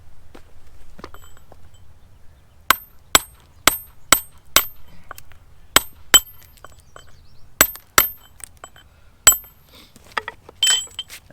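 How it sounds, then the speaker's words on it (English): A pointed steel chisel struck repeatedly against stone while trimming a high spot on a rock for a dry-stacked retaining wall; about a dozen sharp, ringing metallic clinks come in an uneven rhythm, close and loud, with no talking. "I'm going to go ahead and use this nice pointy chisel here."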